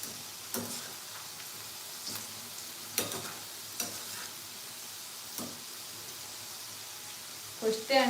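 Sliced okra (bendi) frying in a pan with a soft, steady sizzle and a few scraping stirs at intervals, fairly faint, with no talking.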